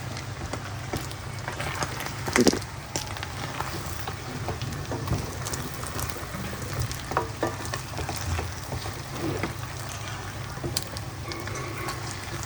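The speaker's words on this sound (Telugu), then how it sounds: "కరివేపాకు వేసుకోవాలి. తర్వాత కలుపుకోవాలి." Curry leaves hit a pan of hot oil and are stirred, a steady crackling sizzle with scraping stirs and a sharp spatter burst early on, no voices.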